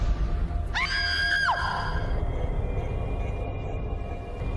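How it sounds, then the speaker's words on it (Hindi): A woman lets out a single high, wavering scream lasting about a second, rising then falling, over a low constant background hum with no talk. "भाभी जी की चीख सुनाई दी मुझे"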